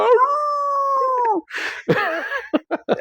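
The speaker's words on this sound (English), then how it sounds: "I think we had dogs down the street" Several dogs howl down the street, a long sustained wavering howl followed by rougher overlapping yowls and short yips, moderately loud and without speech.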